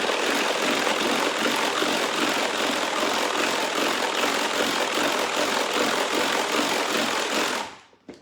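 A kitchen robot churns quiche filling at its lowest speed, a dense, steady motor whir holding loud and unbroken for about seven seconds before cutting off abruptly.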